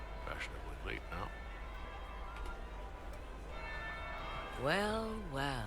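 Church bell tolling in the Dragon Age Inquisition video game, a steady resonant ringing held under a low ambient drone, with a voice speaking over the bells near the end.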